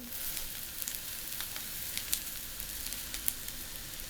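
A steady, soft sizzle of bulgur lightly toasting in a frying pan, an even crackling hiss with a few faint pops and no voices.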